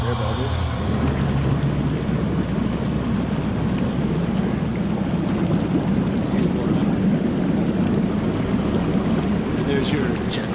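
Air bubbles churn steadily in a Bestway Saluspa Miami inflatable hot tub, a loud, continuous rushing roar that stays even throughout, with a few faint clicks on top.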